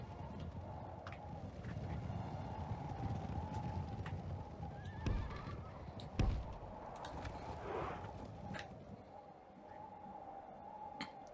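Horses in a Total War mod, Third Age: Divide and Conquer, neigh and whinny over a dense, continuous battlefield rumble with hoof clip-clop and a couple of sharp thuds midway.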